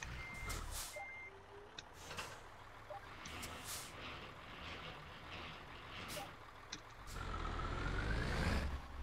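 Reversing beeps from a long custom Mercedes truck in Euro Truck Simulator 2 chirp steadily over a low engine rumble and hiss, with a brief air-brake burst near the end.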